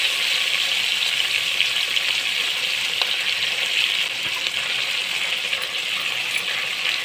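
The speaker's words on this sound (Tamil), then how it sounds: "வெங்காயம் புதினா போட்டு வதக்கணும்." Onion and mint sautéing in a pan give a steady, dense sizzle that holds evenly throughout at close range, with no voices.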